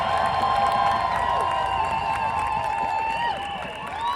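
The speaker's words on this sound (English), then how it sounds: "A big round of applause." Crowd at a political rally in Chicago cheers and applauds as a speaker is welcomed, with sustained whoops, shouts and clapping forming a loud, bright roar that eases slightly toward the end.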